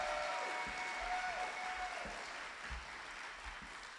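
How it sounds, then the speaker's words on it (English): Audience applause at a Women's Hall of Fame ceremony, a steady wash of clapping that holds for about four seconds at moderate level with no talk over it. "So a round of applause for that."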